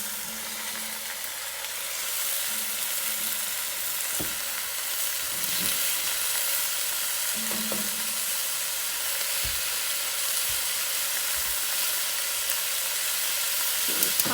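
Beef for a pot roast searing in a hot pan: a steady, close sizzle with bright hiss throughout, broken by a few soft thuds and scrapes as the meat is shifted.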